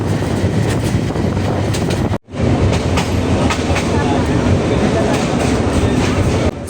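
Inside a crowded moving local train on a journey toward Mymensingh, a loud continuous rumble and rattle of carriages and wheels fills the space, with a brief dropout partway through and faint background voices.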